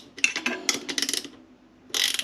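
A ratchet wrench tightening the torque arm bolt on an Engwe M20 e-bike, close rapid clicking strokes in short bursts with a pause before a final burst.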